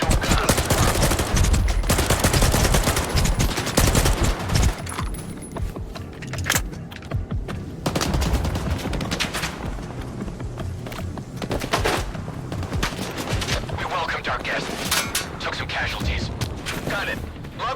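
Gunfire in the game STALKER 2: Heart of Chernobyl crackles in rapid bursts and scattered single shots, loud and dense throughout, with occasional voices in the mix.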